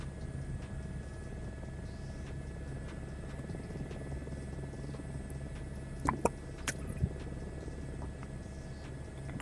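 Helicopter flying in a video game, a steady low rotor drone holding throughout at moderate level, with a few faint clicks toward the end.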